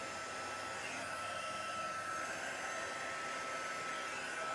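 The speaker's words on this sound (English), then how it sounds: "The heat gun moves the alcohol ink." Heat gun blowing steadily while drying alcohol ink for craft backgrounds, a constant soft airy whoosh with no pauses and no talking.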